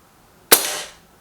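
A single sharp crack of a Lee Enfield Sentry air rifle firing, a close, clean report with a short bright tail fading within half a second, alone with no voices.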